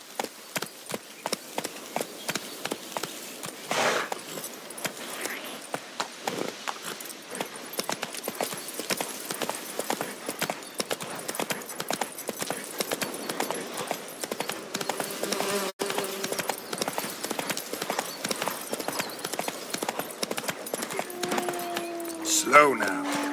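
Geralt's horse Roach galloping in The Witcher 3: Wild Hunt, a steady rapid run of hoofbeats lasting throughout, with faint ambient game sounds and a brief engine-like tone near the end.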